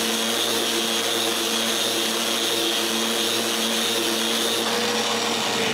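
A power sander works over a walnut urn at 220 grit, giving a steady, loud, continuous whirring drone that holds unbroken for several seconds with no voices.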